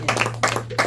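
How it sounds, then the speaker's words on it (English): In a classroom, a short burst of applause comes in three quick pulses of clapping, close and fairly loud, over a steady low hum. "Shall we give Diego first a round of applause?"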